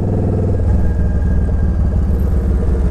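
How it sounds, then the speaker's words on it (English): A fuel-injected Japanese motorcycle engine, a cheap bike compared against the Harley Sportster, runs with a steady, loud low rumble and throbbing idle pulses that hold evenly close by, with no talk over it. "You hop on the bike, you press the button, fire it up."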